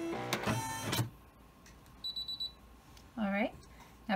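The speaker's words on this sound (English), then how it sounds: "it's just going to sew out a nice rectangle for us" An embroidery machine stitching out a rectangle, heard as short rapid bursts of mechanical stitching between pauses, close and moderately loud, with a few electronic beeps and a person talking at the start.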